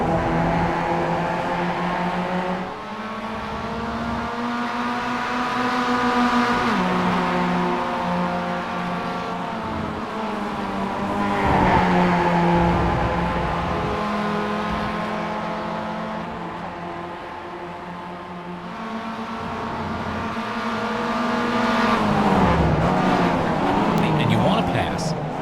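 Race car engines in the iRacing sim racing game at Laguna Seca drone and rise and fall through gear changes for the whole stretch, loud and continuous, while a commentator talks over them.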